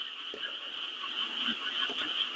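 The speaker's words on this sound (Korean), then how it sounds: "개구리 울음소리 외에는 전혀 안 들립니다." Native frogs croaking at night beside a fishing pond, a dense continuous chorus of calls at steady moderate volume with no voices.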